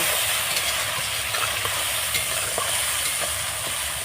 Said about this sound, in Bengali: এই মশলাটাকে সব এর মধ্যে আমি দিয়ে দিলাম দিয়ে আমি ভালোভাবে কষিয়ে নেব